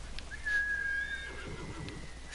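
A horse in Ghost of Tsushima whinnies once, a bright high-pitched neigh, followed by a few soft hoof clatters.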